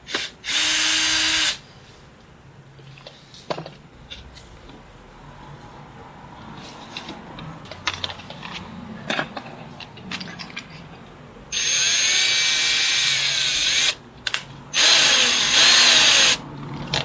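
A power drill bores into the wall of a garden workshop to fit a rose trellis, with two loud bursts of whining drilling at the start and end and quieter handling and scraping noises between them.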